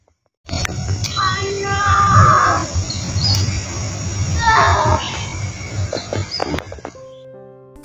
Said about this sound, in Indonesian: ada suara teriakan yang tak dari mana asalnya, seperti sedang merasakan kesakitan